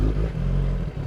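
A 1000cc motorcycle engine rumbles close and low with a light blip of throttle during a clutch-up wheelie, a short steady growl with slight clatter.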